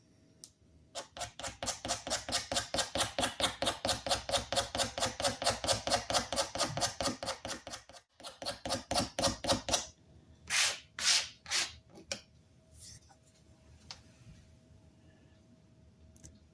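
Rapid rhythmic scraping of old finish off the wooden handle of an antique Erie Tool Works wrench, dozens of close, even strokes that pause briefly, resume, then give way to a few slower, separate rasps.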